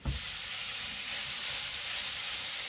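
A steady, fairly quiet hiss of pork fat sizzling in a hot frying pan, continuous throughout with no talking.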